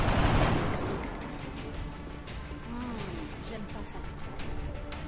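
A burst of gunfire opens at the start in the XCOM Long War video game, then tails off into rumbling battle noise and scattered impacts.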